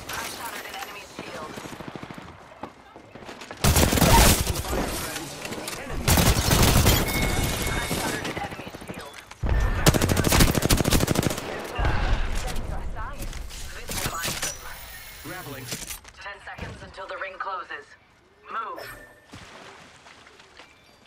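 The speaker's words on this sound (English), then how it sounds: "The enemies are shooting." Enemy gunfire in an online PC shooter, loud bursts of rapid automatic fire in several long volleys separated by quieter gaps, with players talking between them.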